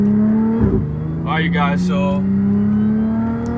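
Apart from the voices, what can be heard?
supercharged 2012 Audi S4 car accelerating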